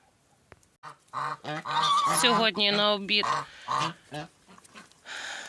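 Geese honk repeatedly in a backyard farmyard where chickens and ducks also graze, the loud harmonic calls coming in close bursts as the birds feed on cabbage, with a voice speaking briefly at the start.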